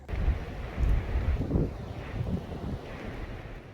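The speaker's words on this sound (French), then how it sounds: "La tempête continue de faire rage et le vent produit un bruit assourdissant." Loud, rumbling blizzard wind buffeting steadily with gusty swells, rough and continuous throughout, with no voices.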